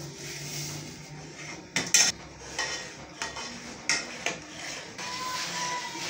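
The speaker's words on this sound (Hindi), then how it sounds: "चम्मच आप लोग मुसलसल हिलाते जाना ताकि ये नीचे ना लगे" Spoon stirring and scraping custard in a cooking pot, a few distinct clinks and knocks against the metal over a steady background hiss, with no voice heard.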